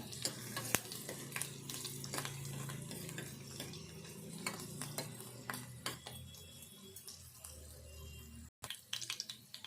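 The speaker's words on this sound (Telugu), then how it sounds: "ఈ ఎల్లిపాయలు కూడా కొంచెం దూరగా వేగాలి" Steady sizzling of garlic frying in hot oil, with occasional clinks of a utensil stirring the pan.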